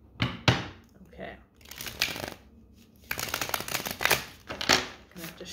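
Brisk riffle-shuffling of a new tarot deck in several quick bursts, close and crisp, with brief pauses between them.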